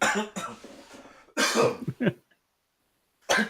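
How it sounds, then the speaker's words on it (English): A person coughs several times in short bursts, close and loud, with a pause of silence before a final cough. "I'm trying to eat my lunch and he made me cough"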